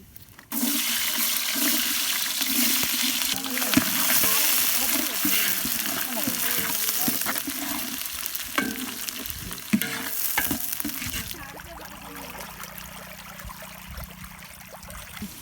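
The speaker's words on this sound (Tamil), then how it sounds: "இப்போ வெங்காயம் போட்டு வதக்கிடலாம்" Onions hitting hot oil with bay leaves, cinnamon, mace, star anise and cloves for a village-style chicken biryani: a sudden loud sizzle that holds steady with stirring scrapes, then eases quieter near the end.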